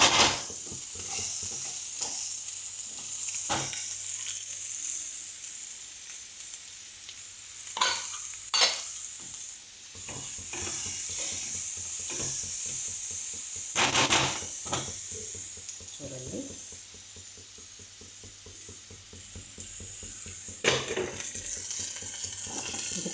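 Chicken masala with coriander powder and chilli being stirred in a frying pan, a steady close sizzle under repeated scraping and clinking strokes of a utensil against the pan, no talking.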